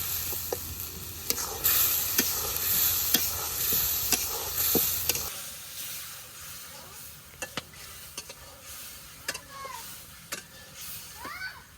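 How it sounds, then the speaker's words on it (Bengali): Ground coriander, cumin paste and salt frying in oil in a pan, sizzling loudly with repeated stirring scrapes during the first half before quieting to a softer sizzle with a few scattered clinks. "মশলাটারে ভালোভাবে কষিয়ে নিই।"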